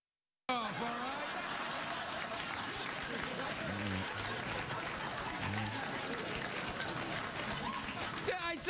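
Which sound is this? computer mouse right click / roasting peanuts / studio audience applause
studio audience applause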